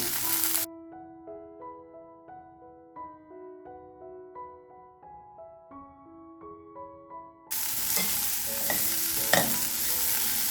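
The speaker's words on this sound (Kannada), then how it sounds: "ನೋಡಿ ಈ ಥರ ಫ್ರೈ ಆಗುತ್ತೆ" Masala with tamarind and coriander leaves fries in a pan just after the stove is switched off. Music plays at first, then a loud, steady sizzle takes over for the last few seconds.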